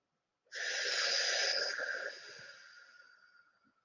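A group breathing out together during a calming exercise: one long, soft, airy exhale that starts fairly strong and slowly fades, with no talking.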